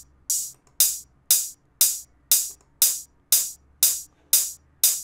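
Sweeping open hi-hat made in FL Studio, ten evenly spaced bright hissing hits about half a second apart, each with a sharp attack and a swishing decay, crisp and close with no voices.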